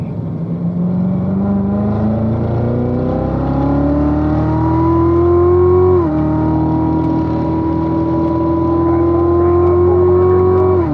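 A car on the race track at the Ron Fellows Performance Driving School accelerates hard out of a turn. The loud, close engine note climbs steadily, drops briefly at a gear change, then rises again.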